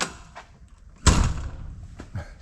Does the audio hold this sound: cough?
no